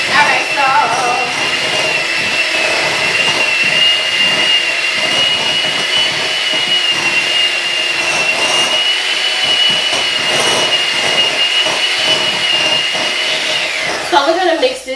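An electric mixer whirs at a steady high pitch as it beats tea cake batter for lemon glazed Southern tea cakes, a loud continuous drone with faint knocking against the bowl and no talking.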